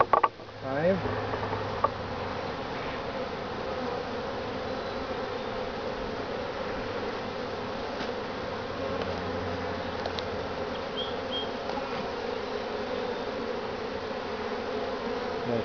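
Honeybees buzz steadily around an open hive during an inspection, a dense, close, continuous drone with a few faint handling knocks near the start.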